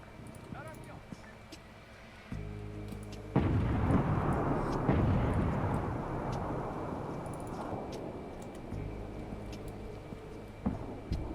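AC-130 gunship cannon fire and explosions in a night infiltration video game mission: a low droning hum, then a heavy booming blast that rolls into a long rumbling wash before the drone returns, with a sharp pop near the end.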